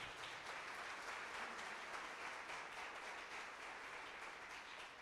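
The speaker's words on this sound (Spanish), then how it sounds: "Denle un aplauso al Señor por eso." A church congregation applauds during a sermon, with a sustained, even wash of many hands clapping that sounds somewhat distant and fills the space without pause.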